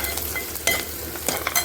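Onions sizzle in a pan for a Tamil fish curry, a soft steady fry, with a few louder scrapes and clinks of a stirring spoon against the metal.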